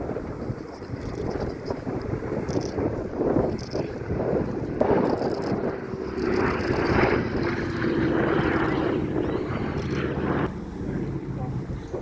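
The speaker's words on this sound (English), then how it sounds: "Now in comes the Dakota." A Dakota transport aircraft powered by two Pratt & Whitney Twin Wasp 14-cylinder radial engines flies past at an air show finale at Duxford, with a steady droning propeller roar and gusting wind noise throughout, while a commentator talks over it.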